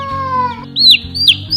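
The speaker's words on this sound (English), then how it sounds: "So the Hmong chicken, we've got 5 of them, and they've been doing really well for the past week." Several young Hmong chickens, a rare breed recently hatched from mail-order eggs, give a few short chirping calls on a small backyard chicken ranch after a steady tonal hum fades, loud and close with brief gaps between calls.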